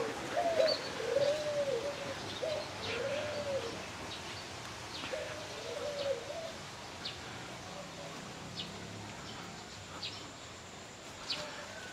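Soft, rolling African collared dove coos sound a few times early on at a zoo, then fade, leaving faint distant chirps and quiet outdoor ambience.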